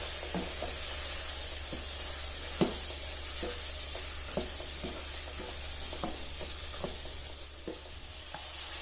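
Potato pieces cooking with minced meat in a pan, a steady background sizzle broken by scattered soft clicks and scrapes of stirring, moderately quiet and without talk.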